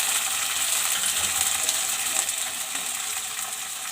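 Cauliflower, potatoes and peas fry in a pan, giving a steady, close, bright sizzling hiss with faint crackles and no one speaking.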